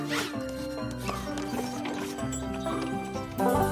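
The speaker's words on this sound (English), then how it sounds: "And those there are horse-drawn carriages." Cartoon horse hooves clip-clop steadily as a horse-drawn carriage rolls along, sounding close and continuous over background music, with no talk.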